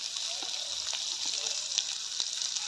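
Chopped onion and garlic fry in hot oil for a Bengali sim dish, producing a quiet, even sizzle with a few light clicks from the spatula.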